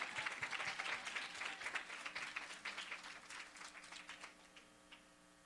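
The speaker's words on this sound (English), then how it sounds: "Let's clap it up for them one more time." Quiet audience applause at a special education town hall, brisk overlapping claps from a modest crowd that taper off gradually toward the end, heard from a distance with a faint hum beneath.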